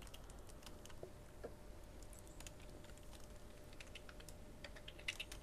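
Quiet, steady typing on a computer keyboard while entering Minecraft chat, soft rapid key clicks running throughout with a few slightly sharper taps, no voices.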